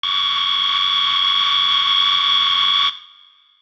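A detuned mouth-made sound, run through the Hardcore guitar amp plugin, rings as a harsh, steady buzzing tone for about three seconds and then stops abruptly with a short fading tail.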